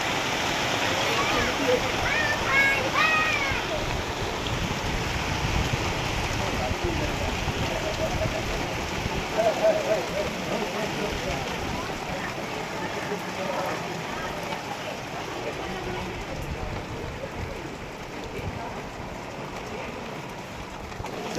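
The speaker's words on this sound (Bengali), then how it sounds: "খুব জোর বৃষ্টি এলো।" Steady heavy rain pours down as a dense, continuous hiss throughout, with voices speaking faintly beneath it.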